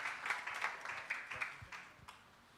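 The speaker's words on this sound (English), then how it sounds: "A round of applause for him, please." Faint, distant applause from a summit audience, a loose patter of scattered hand claps that thins out toward the end.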